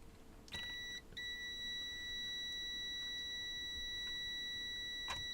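A multimeter's high electronic tone beeps, cuts out briefly, then holds a long steady beep, with faint clicks and a short chirp near the end.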